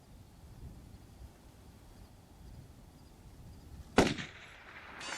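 A single sharp rifle shot fired at a long-range target cracks out near the end after quiet outdoor ambience, followed by a brief echoing tail.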